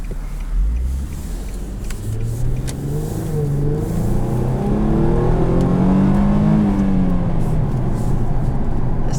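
Revving V6 engine of a 2012 Infiniti G37 convertible with sport pack on a road drive, loud and close, climbing steadily in pitch as it pulls hard, steady roar throughout with no talking.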